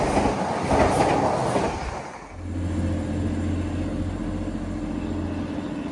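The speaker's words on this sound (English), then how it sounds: "Newcastle train going through, a bit late." A Newcastle train runs through Deighton station without stopping, with a loud, close roar and clatter at first. It drops away into a lower, steady rumble of wheels and engine that carries on.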